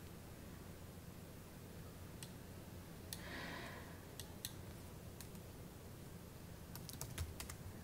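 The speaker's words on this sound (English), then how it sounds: "Let's type some more lines here," A few sparse keyboard taps click faintly on a computer during CAD drafting, scattered single keystrokes and small clusters over a quiet background hiss.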